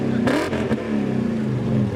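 Loud aftermarket exhaust of a BMW 528 car, a brash rumbling drone with rising revs and a couple of sharp blips, close by and continuous throughout.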